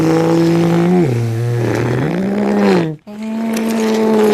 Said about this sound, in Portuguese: alguns pilotos realmente estão acelerando para valer, hein, Daryl?